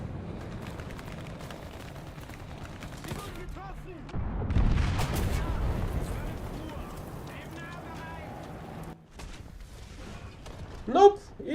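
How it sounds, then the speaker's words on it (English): Artillery shells land around a tank in War Thunder, with heavy booming impacts and rumbling bursts in the middle of the stretch, a sharp loud hit near the end, and a player talking over much of it. "I'm getting an artillery dropped on my head without anywhere nearby"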